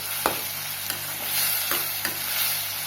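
Onion, green chilli and tomato sauté with dal in a pan, giving a steady broad sizzle with a few soft spoon scrapes and taps against the pan, close up and without talk.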